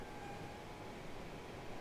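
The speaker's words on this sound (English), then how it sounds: "And there goes the rest of our train." A British Rail Class 90 set on the Great Eastern Main Line pulls away, giving a steady, distant rumble with a broad hiss and faint tonal whine, unbroken and with no voices.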